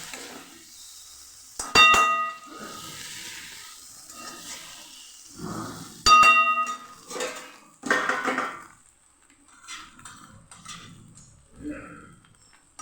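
A metal pot lid is lifted with two sharp ringing clangs, followed by a spoon stirring and scraping cooking food in the pot, with sizzling hiss between strokes, close up, under intermittent talk.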